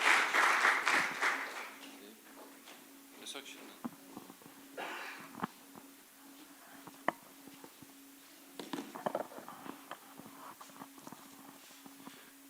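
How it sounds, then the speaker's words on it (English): Applause from an audience at a hospital hackathon final pitch session, a loud burst of clapping for the first two seconds that fades into scattered claps and room noise with some talk underneath. "please give a round of applause for them and welcome with the smiles"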